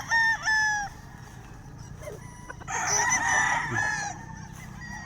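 A gamefowl rooster on a farm crows clearly twice, a short call first and a longer full crow a few seconds later, with faint clucking and yard noise between them.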